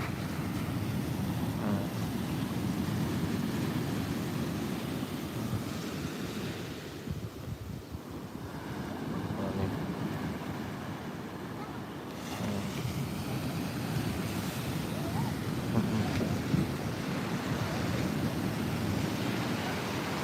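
Surf rolls steadily onto Muaro Bayang beach in Pesisir Selatan, West Sumatra, a continuous broad wash of waves mixed with wind buffeting the microphone, with no voices.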